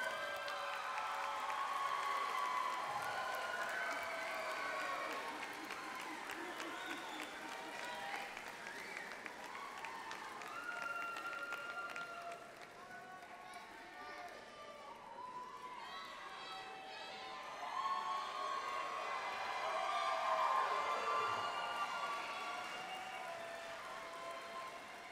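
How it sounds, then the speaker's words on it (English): At the BYU–Hawaii spring 2018 commencement, graduates applaud their families: a soft, distant patter of clapping runs steadily under voices and a murmuring crowd throughout. "acknowledge their parents, family, and special guests with a round of applause for your support"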